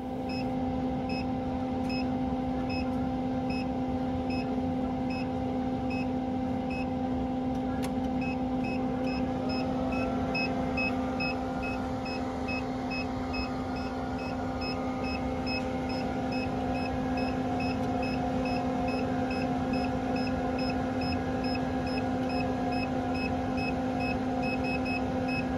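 A Vanguard Instruments transformer winding tester runs a phase test, giving a steady electrical hum with constant tonal drones and a regular series of faint high beeps repeating throughout, alone and unchanging.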